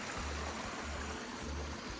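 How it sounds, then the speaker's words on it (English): Steady rushing and splashing of water cascading over rocks in a backyard garden stream, continuous and fairly soft, with no voices. "we create water rushing over one side, kind of creating a cascading area right here"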